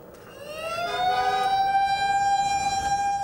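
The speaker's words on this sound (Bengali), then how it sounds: "রাতের নিস্তব্ধতা ভেঙে সাইরেন বাজিয়ে জাতীয় বার্ন ইনস্টিটিউটে ঢুকছে একের পর এক অ্যাম্বুলেন্স" Ambulance sirens wail at night as the vehicles arrive one after another at a national burn institute, a loud, rising and steady tone with no talk.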